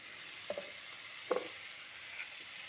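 Broad beans sautéing in a pan with garlic, onion, tomato and chili: a faint, steady frying hiss, broken by a few quiet knocks as the beans are moved.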